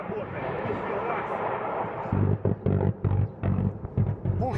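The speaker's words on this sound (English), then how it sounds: "Пушки работают." A sequence of heavy booming blasts, roughly half a dozen in quick succession, following a stretch of rumbling noise; distant artillery-like firing.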